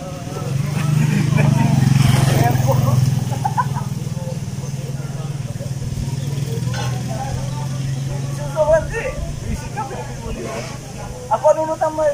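Rice farming machine engine running during repairs ahead of palay planting in Bayambang, Pangasinan, a steady low rumble with louder revving early on, while people talk nearby.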